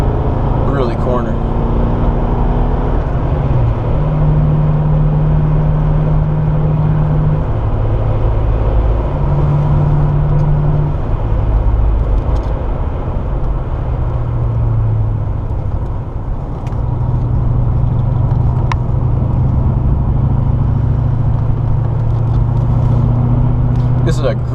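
A Lincoln Mark VII car driving on a winding road, a loud steady engine and road rumble with low hum that shifts in pitch as speed changes, under someone talking inside the car.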